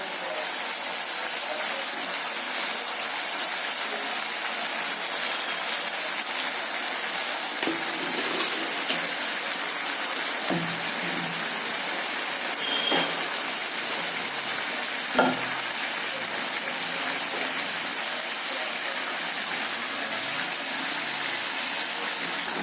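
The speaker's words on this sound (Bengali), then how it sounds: "বেশ কিছুক্ষণ ভেজে নিয়েছি, কষে নিয়েছি" Spice masala fries for a raw banana kofta curry. A loud, steady hiss fills the whole stretch, with a few soft knocks from the pan and no talk.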